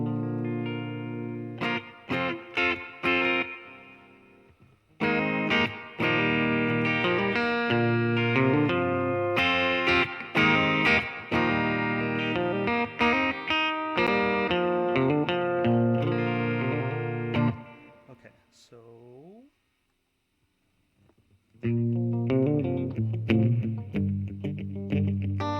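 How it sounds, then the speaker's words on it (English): Electric guitar drenched in surf rock reverb, strummed chords and picked notes ringing with heavy effects. A sustained section breaks off into a pitch-bending slide and a short silence, then playing resumes. "I kind of want that surf rock reverb on it."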